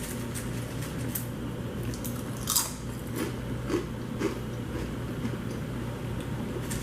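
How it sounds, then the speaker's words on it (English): Crisp crunching and chewing of homemade Jamaican banana chips up close, several sharp bites over a low steady background hum. "already we can tell it's really crunchy because you hear them against each other"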